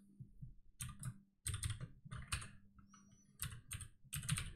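Quick bursts of keystrokes on a computer keyboard, several short runs of clicky typing with brief pauses between, close and fairly quiet.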